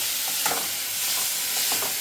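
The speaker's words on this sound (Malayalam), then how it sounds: "അപ്പൊ ഇതിനി വഴറ്റിയെടുക്കണം" Chapati bun filling sizzles steadily in a hot pan while being sautéed, with a constant hiss and a few soft scraping stirs of a spoon, close and even, no voices.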